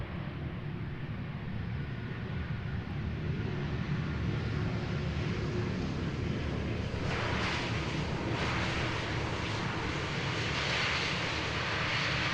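A Swiss airliner landing at Schiphol Airport on the Polderbaan gives a loud, steady jet roar with a broad rumbling hiss, sustained throughout and swelling slightly as it passes.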